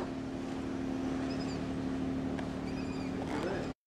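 Steady engine drone of a boat crossing the water in Istanbul, a constant low hum with wind noise throughout and a few faint high squeaks near the end.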